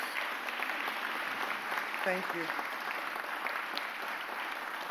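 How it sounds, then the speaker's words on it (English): An audience at a mayoral press conference applauds, a steady, fairly faint patter of clapping that runs throughout, with a voice speaking briefly over it. "Give the big three a round of applause."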